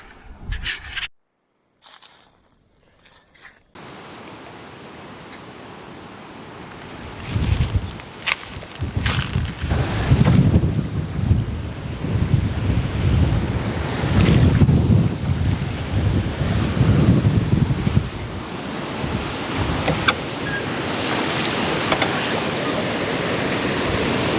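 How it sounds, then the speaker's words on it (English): Strong wind gusts across a river during a float trip in a small pontoon boat, roaring and buffeting the microphone in uneven, swelling surges that grow louder and rougher after a brief quiet start. "I wish this wind wasn't blowing. It's making it challenging."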